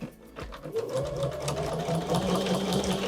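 A sewing machine stitches steadily down a line on a quilt, a close, continuous rapid mechanical whirring and clatter at an even pace.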